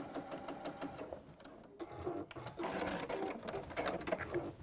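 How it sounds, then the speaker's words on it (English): Sewing machine stitching fabric pieces, a quiet rapid rhythmic run of needle strokes that continues through the short clip with slight variations in pace. "I know that I'm sewing in the right way."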